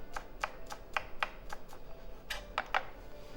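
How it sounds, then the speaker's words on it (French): A knife finely chops garlic on a cutting board, a quiet series of crisp taps, evenly spaced at first, then a short pause and a quick final cluster. "Et on va couper de l'ail très fin."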